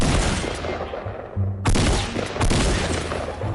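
Gunfire in Fortnite, a dense, loud burst of rapid shots that cuts out briefly, then resumes as overlapping volleys.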